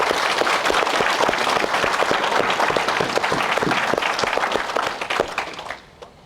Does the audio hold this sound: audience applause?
yes